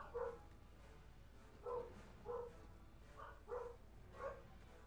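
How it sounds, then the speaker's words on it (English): Dogs bark in the background, five or six separate short woofs spaced irregularly, moderately distant and fairly faint against a quiet low hum. "Now they're barking for some reason."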